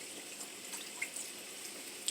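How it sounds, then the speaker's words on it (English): Dry white wine poured into a pan on the stove, a soft continuous liquid trickle with small splashy drips, close and alone. "We're going to pour the wine in first."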